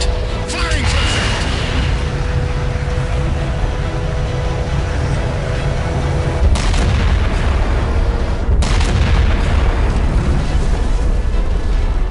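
Weapon fire at a target in the Halo 4 video game: a loud, continuous rumbling blast with sharp impacts near 6.5 and 8.6 seconds, dense and booming throughout.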